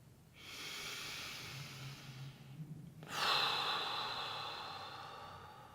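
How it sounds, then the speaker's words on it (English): Two slow, deep breaths, heard close and quiet: a long airy inhale, a pause, then another drawn breath that swells and trails off, with no talking. "Deep breath here."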